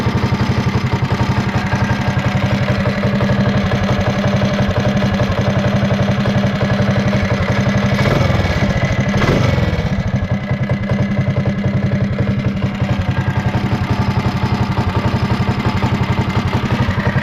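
An off-road vehicle's engine runs steadily up close with its cover open and internal parts spinning, a constant mid-low drone with light clatter and a brief swell partway through.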